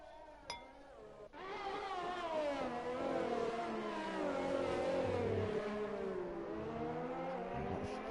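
Race cars in an F1 video game at the USA Grand Prix sweep past one after another, engines whining and shifting pitch as they approach and pull away, loud and continuous.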